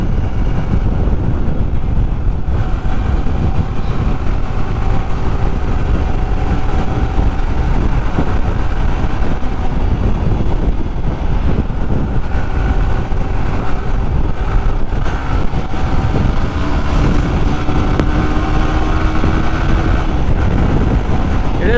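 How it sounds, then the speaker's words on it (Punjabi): A Yamaha R15 V3 motorcycle riding at about 80 on a road, heard as a constant loud roar of engine and rushing wind buffeting the microphone throughout, with no clear gear changes. "ਬਸ ਆਪਾਂ ਚਲਾ ਰਹੇ ਹਾਂ ਹੁਣ ਬਾਈਕ 80 ਤੇ"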